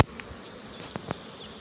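Honey bees buzzing around a freshly opened hive during honey harvesting give a faint, steady hum, with a few brief louder buzzes as single bees pass close.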